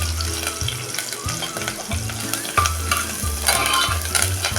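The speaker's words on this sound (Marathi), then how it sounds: "कढीपत्ता आणि तडका मिरची त्याचं मेंढभर हे दोन्ही पण परतून घ्या त्यात आता हा ठेचलेला लसूण" Crushed garlic, curry leaves and chillies fry in oil for a tempering for dal khichdi: a constant loud sizzle with a rhythmic scraping from stirring, close up, with no voice over it.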